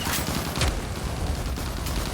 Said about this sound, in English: Oh, it's a Gauss cannon.